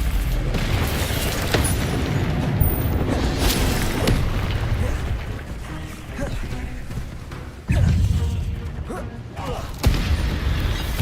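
Fiery spell bursts from Incendio casting in Hogwarts Legacy, heavy booming whooshes and thuds over a dense game soundscape, with sharp blasts near the eight and ten second marks; speech-like game voices blend in.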